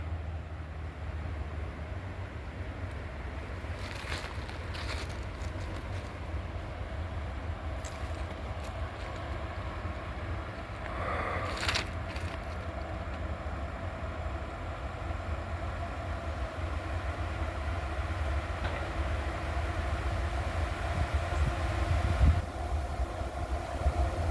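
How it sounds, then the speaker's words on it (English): A coal train rolls along the tracks beside a right of way being cleared of trees, a steady low rumble of railcars holding throughout with a brief higher squeal midway and growing slightly louder toward the end. "Looks like a coal train, y'all"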